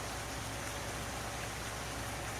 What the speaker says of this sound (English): It's just a shame that it's raining and it's quite dark.